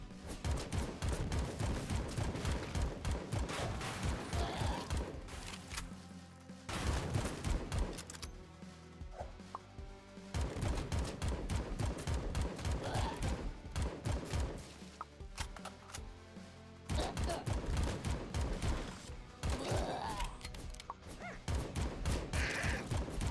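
Video-game gunfire in repeated clusters of sharp, rapid shots, loud and near, separated by short quieter gaps, with no talking.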